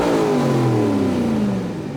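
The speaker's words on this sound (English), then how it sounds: "I'll quick fire this thing up here so you guys can kind of listen to her purr." A Ford Super Duty pickup's engine runs loud and close, its tone sliding down from a rev as it settles toward a steady idle.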